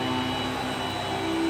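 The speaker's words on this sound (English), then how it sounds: "This is such a quiet vacuum." A Eureka Powerspeed upright vacuum cleaner runs at close range, giving a steady, loud motor whine and airflow roar with a constant tonal hum and no breaks or talk.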